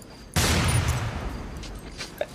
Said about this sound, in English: If you want to fire consecutive shots, you can take note that the minute the reload sound ends, you can fire the gun again.